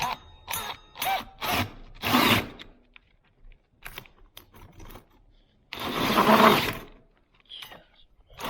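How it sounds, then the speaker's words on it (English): A hole saw drills through wood in a pole barn in short bursts of whining, grinding power tool noise, with a longer loud run near the end separated by quieter gaps. "I absolutely hate these hole saws"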